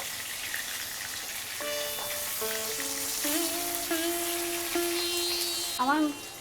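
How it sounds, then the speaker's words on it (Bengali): Pieces of bhetki fish fry steadily in hot oil in a pan, giving a constant close sizzle with a few tonal clinks and a brief rise near the end. "মাছগুলি এক পিঠ ভাজা হয়ে গেছে এবার ওই পিঠটা আমি ভেজে নেবো"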